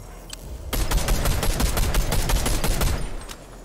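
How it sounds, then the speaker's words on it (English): In Fortnite, a gun fires into the air in one rapid, continuous burst of dense shots lasting a couple of seconds. The shots are loud and close, then trail off. "Why is he just shooting in the air?"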